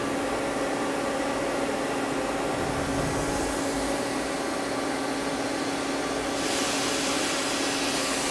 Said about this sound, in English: All right, turn on the coolant.